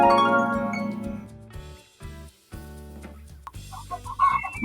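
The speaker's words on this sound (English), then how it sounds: "on a little farm near a little village, there lived a little chicken called Daisy" Farmyard chicken sound effect from a children's story: a tonal background opens the clip, then loud bursts of hen clucking and squawks come toward the end, with no talk.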